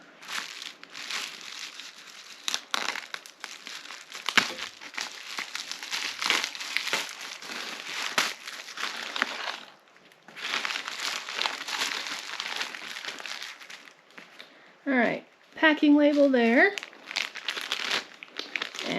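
Crinkly confetti paper wrapping rustled and crumpled while a dice set package is opened, busy close crackling with tearing bursts, and a brief spoken comment near the end.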